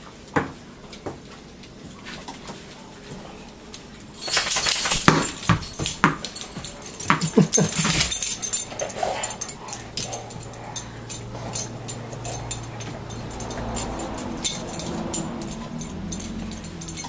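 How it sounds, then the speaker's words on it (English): A dog at home gives sharp yips and a burst of barking in the middle, then softer whimpers, in a quiet room with faint background sounds. "Crazy dog."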